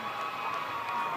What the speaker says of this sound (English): There they are, cheering.